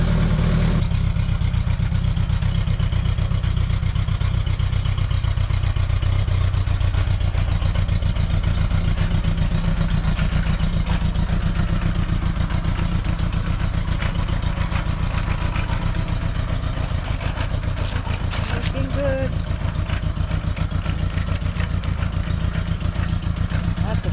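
Engine of a restored 1976 Honda Goldwing LTD motorcycle on a test ride, a loud, steady low running drone that holds with slight rises in revs throughout, with faint voices in the background.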